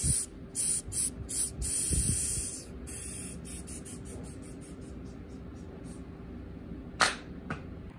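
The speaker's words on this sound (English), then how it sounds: "found my good smoke spray" An aerosol can of smoke spray for testing a smoke detector gives a series of short, sharp hissing bursts, loud and close, then quieter room tone with a couple of later spurts.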